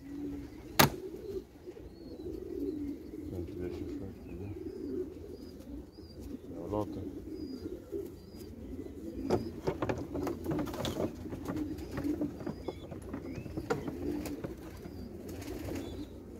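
Pigeons cooing softly at a loft, low murmuring coos repeating throughout at a modest distance, with scattered rustles and a sharp click, quiet overall.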